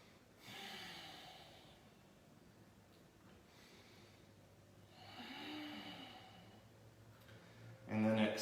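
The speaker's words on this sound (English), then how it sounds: "Inhaling and exhaling" Slow breaths in and out during a yoga hip stretch, soft and close, with a few separated airy swells, and a voice briefly entering at the end.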